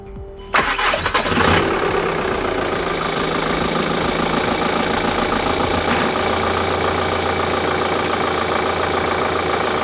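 A Volkswagen Golf GT TDI diesel engine cranks briefly, then catches and settles into a steady, rattly idle that continues close by.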